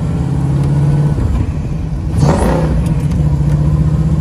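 A 1957 Chevrolet Corvette pulls away from a turn and accelerates, its engine rumbling loud and close with a rising rev in the middle, then settling back to a steady drone.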